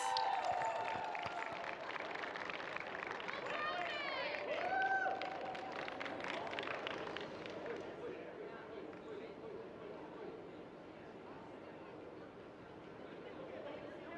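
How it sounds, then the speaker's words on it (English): A crowd at a 2022 national championship applauds the Carleton Ravens team with dense clapping that is strongest at first and then gradually fades. Murmuring voices and chatter run under the applause. "can I get another hand, a big round of applause for the Carleton Ravens?"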